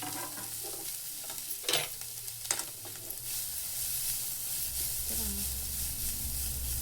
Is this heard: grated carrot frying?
yes